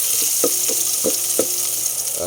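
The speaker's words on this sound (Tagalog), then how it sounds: "Gisahin na natin yung ating luya." Ginger and onion sautéing in a hot pan, with a steady sizzle under several short stirring scrapes that come in a loose rhythm.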